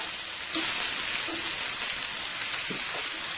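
Chicken sizzles and fries in a pan, a steady close hiss of hot oil with a few soft clinks as the pieces are turned, no talking.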